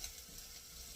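Spam frying in a pan with pineapple nearby, a soft, steady sizzle with faint scraping of a stirring utensil, quiet and continuous with no talk.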